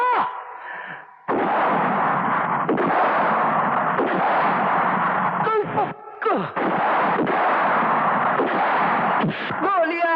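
Gunfire in a Hindi action film scene, loud bursts and sharp reports filling nearly the whole stretch with brief gaps, mixed with a dramatic score and effects.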